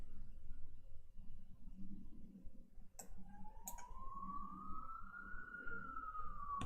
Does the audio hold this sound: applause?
no